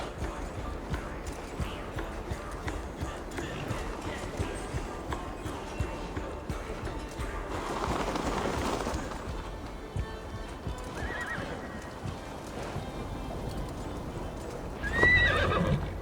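A horse in the video game Assassin's Creed Valhalla gallops with rapid rhythmic hoofbeats, then gives a loud neigh near the middle and another whinny near the end, with game music and ambience underneath.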